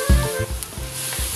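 Carp roe sautéing with chopped celery in a pan, a close, steady sizzle with low knocks and scrapes of stirring running throughout.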